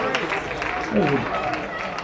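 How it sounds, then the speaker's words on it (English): Baseball crowd at a Eugene Challengers home game clapping for a departing pitcher, Jason Proudfit, as he leaves the mound; steady scattered applause from the stands with a voice talking over it. "The Eugene faithful here in attendance will give him a round of applause."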